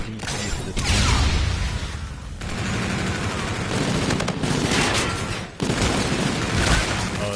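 Rapid gunfire in a competitive video game match, loud and close, with sustained automatic bursts and booms running almost without pause, broken by a couple of short gaps.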